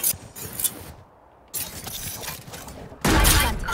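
Rapid bursts of gunfire in Valorant, loud close shots in several clusters with brief gaps between them and a louder burst at the end, no talking.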